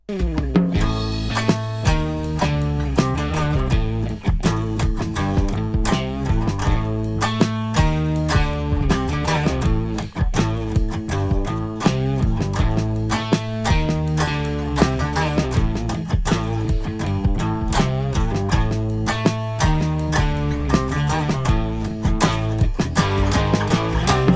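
An electric guitar plays a repeating riff with punchy, rhythmic notes, loud and continuous throughout without any talking.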